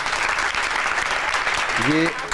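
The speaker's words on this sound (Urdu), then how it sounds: "تالیاں بجائیے" Studio audience applause during a live Ramzan transmission, a dense steady wash of clapping throughout, with a voice briefly heard near the end.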